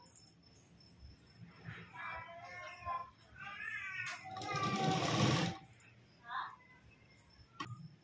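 A sewing machine stitches a katori blouse, its motor whirring in a steady burst mid-clip, while someone speaks softly over and around it in a quiet room.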